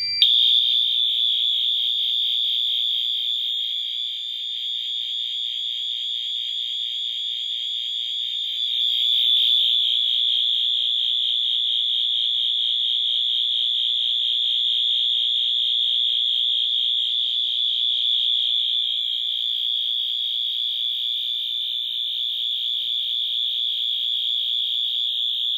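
A Fire-Lite MS-5UD fire alarm system under test, sounding one continuous shrill high-pitched tone that holds steady for the whole stretch with no talk over it.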